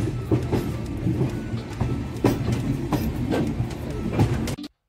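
A passenger train rolls along a parallel track beside another train near Ambala Cantt railway station, steady rumbling with repeated clickety-clack wheel beats, fairly close, ending abruptly.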